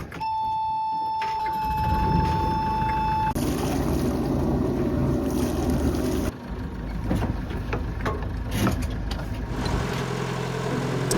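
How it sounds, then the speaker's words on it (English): Sailboat engine running steadily after the wind dies out at sea, a continuous low mechanical drone that stays loud and close throughout with slight shifts in tone. "So time has come to turn on the engine."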